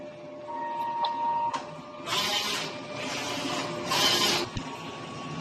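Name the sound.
DTF printer running a nozzle test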